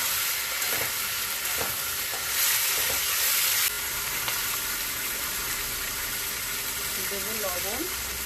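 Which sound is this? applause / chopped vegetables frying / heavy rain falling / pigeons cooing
chopped vegetables frying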